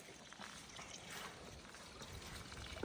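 A thin trickle of water runs between two rocks at a small source along the Appalachian Trail, a faint, steady dribbling wash close by with no voices.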